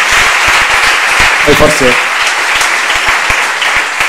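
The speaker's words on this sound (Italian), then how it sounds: "ci sta un altro applauso" Audience applause at an Italian book presentation about California: close, crisp individual claps in a fairly steady rhythm, with a brief spoken voice breaking through in the middle.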